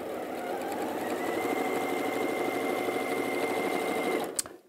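A sewing machine runs fast and steady as it stitches fabric, a loud continuous mechanical whir that stops abruptly near the end with a sharp click.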